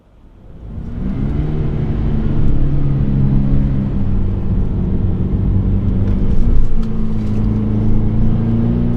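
Toyota GR86 Premium with a manual gearbox pulling away and cruising, its engine note rising from quiet into a steady, close rumbling drone heard from inside the car, with shifting tone as it accelerates.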